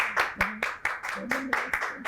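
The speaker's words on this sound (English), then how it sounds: "Everyone clap." Scattered clapping in a steady rhythm, a handful of sharp claps over about two seconds, mixed with voices talking and cheering nearby.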